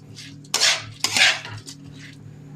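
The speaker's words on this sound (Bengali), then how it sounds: "ভালো করে নেড়ে নেবো।" Rice and lentils stirred in a cooking pot for vegetarian khichuri, with two loud scraping strokes of a metal spoon against the pot, followed by softer clinks.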